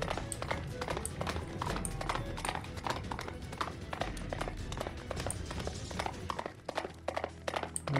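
Horse hooves galloping in a Roblox Attack on Titan game, a steady fast clip-clop running throughout at close range over a busy game soundscape.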